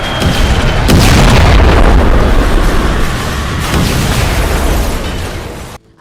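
Heavy bomb explosions from a B-2 stealth bomber strike with 2,000-pound bombs on Iranian military sites, a loud, sustained rumbling roar of booms that stays dense for several seconds before cutting off abruptly.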